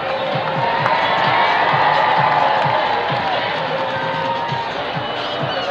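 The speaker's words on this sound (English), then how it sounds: "Make some noise for Jessica." A stadium crowd at the SIU Punt, Pass, and Kick Contest cheers steadily for a 37-yard field goal attempt. The roar is dense and sustained, with scattered shouts and whoops throughout.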